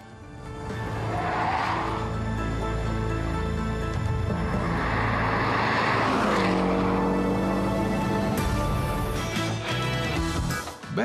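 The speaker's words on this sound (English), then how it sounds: "Even changing lanes at 110 kilometers per hour and oversteering slightly is no problem for the" A Porsche Boxster S driven fast on a road at speed, a steady loud engine roar and tire noise sustained throughout, with a rising pitch toward the end and no talk.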